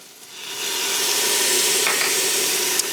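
Garlic sizzles steadily in a hot pan of softened mirepoix for a soup, a bright continuous crackling hiss that swells after a quiet start and holds close and loud, with a few faint stirring scrapes.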